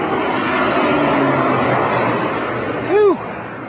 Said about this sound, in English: You can hear that airplane just zooming right down over the treetops.